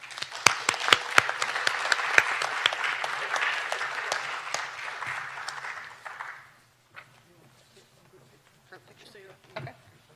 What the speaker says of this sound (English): join me in giving our volunteers a round of applause